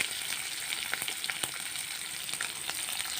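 Onions sizzling and frying in a hot wok over a gas stove, a steady bright crackle with scattered sharp pops, close and alone without talk.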